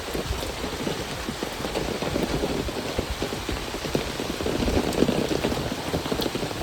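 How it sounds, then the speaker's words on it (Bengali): Steady rain falls across a Bangladeshi pond and open farmland, a dense, even hiss of drops that swells slightly toward the end, with no voices. "টিপ টিপ করে বৃষ্টি হয়।"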